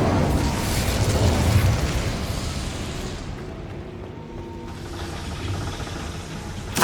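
Incendio fire spell cast in Hogwarts Legacy, a loud whooshing burst of flame that roars for a couple of seconds then settles into a lower crackling rumble before a final pop.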